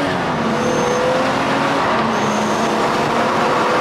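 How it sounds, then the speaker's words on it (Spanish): A car arriving on a road, its engine a loud steady rumble with a faint rising whine, close by and alone without talk. "Ya vi tu pinche carro."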